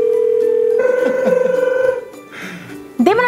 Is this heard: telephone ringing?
yes